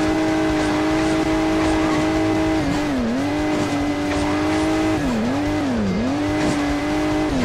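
A car engine drones steadily in Hill Climb Racing 2, its pitch dipping and rising several times as the vehicle slows and speeds up, loud and continuous.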